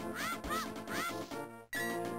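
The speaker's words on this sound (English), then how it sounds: "I hit the chicken" A chicken in Zelda: A Link to the Past on the Game Boy Advance squawks after being struck, giving several quick, nasal squawks in a row, clear and loud, followed by a sudden cut and more game sound.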